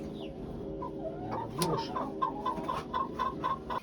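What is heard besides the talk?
broody hen clucking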